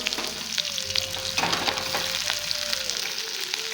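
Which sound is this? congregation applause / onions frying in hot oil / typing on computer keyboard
onions frying in hot oil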